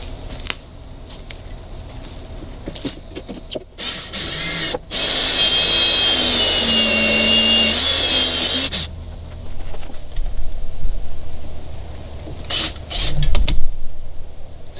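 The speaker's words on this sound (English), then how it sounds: "All right, so let's get those holes drilled out." Power drill boring holes in a classic Boston Whaler hull to mount a Martin Marine boarding platform ladder, a steady whining drill run of several seconds with a rising pitch, followed by handling clatter and faint bumps.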